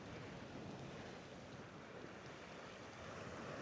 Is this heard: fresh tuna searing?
no